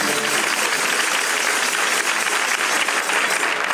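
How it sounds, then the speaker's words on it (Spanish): Dense, loud audience applause fills a hall at the fifteenth anniversary celebration of La Parranda de Manilva, a continuous sustained ovation from a large crowd, close and unbroken throughout. "pido un fuerte aplauso para mi tío Diego de la Cala"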